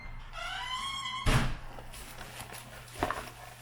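A makeup palette gift box is opened with a rising squeaky scrape, followed by a solid thunk, then a few quieter knocks and handling sounds, close by with no talk.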